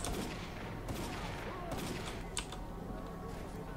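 Gunfire in the video game S.T.A.L.K.E.R.: Call of Pripyat, a distant firefight with scattered shots and bursts over a noisy ambient bed.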